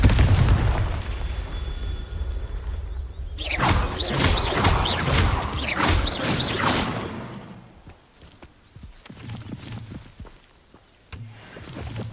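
Confringo blasting spell explosion in the game Hogwarts Legacy: a loud booming blast with crackling debris over a low rumble, followed by a fading tail and quieter scattered impacts.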